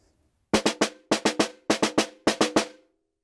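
A snare drum plays crisp, evenly spaced single strokes in four quick groups of three, a 16th-note skeleton for an eighth-note roll, loud and close with short ringing decays and no talk.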